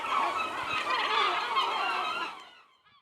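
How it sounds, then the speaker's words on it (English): Seagulls on a remote off-grid island garden calling together in a dense, continuous squawking chorus that is loud and near, then fades out quickly at the end. "The seagulls are happy about it too."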